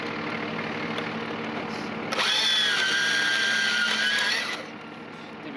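Portable band saw cutting through a hardened bike lock, a loud close whine that rises sharply and holds steady for about two and a half seconds before dropping back to a running hum.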